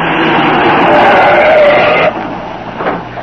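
A getaway car speeding off in a Green Hornet radio drama, a loud revving engine roar that swells, then cuts off sharply after two seconds, leaving a quieter fading rumble.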